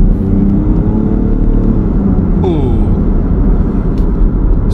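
A 2025 Lexus LBX compact car is driven at speed on a test drive, with a steady loud cabin rumble, road and engine drone, and a brief rising whine partway through.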